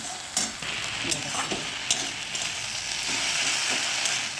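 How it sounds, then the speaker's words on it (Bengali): Food frying in a pan sizzles steadily up close, broken by sharp clicks and scrapes of stirring at an irregular pace. "একটু ভাজা ভাজা করবো করে তারপরে সামান্য একটু জল দিয়ে দেবো"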